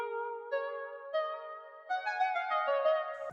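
A bright synthesizer keys sound from a Serum patch plays a short melody of sustained chords and plucked notes, clean and alone with no talking.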